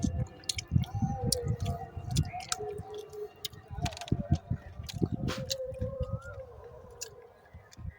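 Someone chews sour tamarind close up, with wet, squishy mastication and smacking in an uneven rhythm, plus sharp clicks, faint outdoor background noise and a brief stretch of talk.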